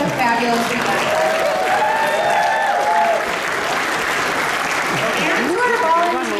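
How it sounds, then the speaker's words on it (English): Audience applause at a festival closing ceremony, a sustained wash of clapping from a large crowd, with voices and cheers mixed in throughout. "a big round of applause for all of you for making it such a fabulous event"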